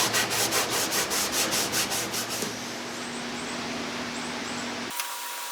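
A Scotch-Brite pad scrubs a boat hull by hand in quick rhythmic strokes, a close, rough abrasive rubbing that fades into a steady scraping before it stops.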